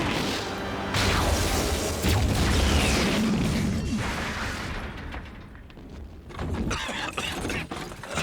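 A Street Fighter Sonic Boom attack rips out as a loud, dense burst of energy, roaring and crackling for several seconds before thinning into scattered debris-like clatter.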